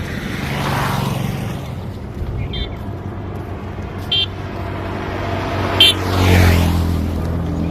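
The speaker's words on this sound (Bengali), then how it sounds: "উপর দিয়ে কিন্তু অনেক গাড়ি চলে।" Traffic passing over a bridge above the Gurufela river, a steady low vehicle rumble with cars swelling past and a few short horn toots, heard from below with no clear speech.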